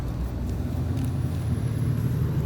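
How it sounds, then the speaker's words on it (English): Low, steady road traffic rumble from passing vehicles, a continuous muffled drone with no distinct pass-bys, heard outdoors beside a road. "there is going to be a slight bit of traffic noise"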